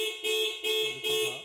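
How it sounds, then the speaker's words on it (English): Haval H6 Hybrid theft alarm sounding through the car horn: three loud, sustained honks, each about a third of a second long, separated by short gaps in a steady repeating pattern. "So your car horn will start honking"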